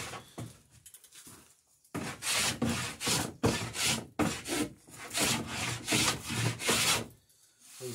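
A saw cuts the wooden stern bevel of a traditional New England style wooden boat in a steady run of close, rasping strokes after a quiet start, then stops near the end.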